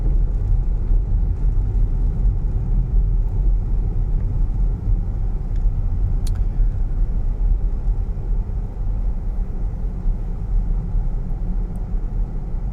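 A Tesla car rolling over fresh, unplowed snow on a road with parked vehicles along the side, giving a steady, muffled low rumble of tires and cabin noise throughout, with no talking.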